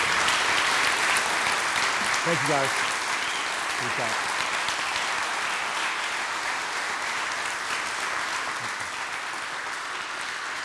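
A church congregation applauds in a sustained, dense wash of clapping across the whole stretch, loud and even, while a voice speaks over it.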